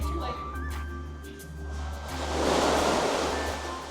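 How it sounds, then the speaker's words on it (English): Artificial waves washing through a reef exhibit tank at an aquarium, a soft surging rush of water that swells and fades under a steady hum, with people talking nearby. "Oh my gosh, they actually add waves."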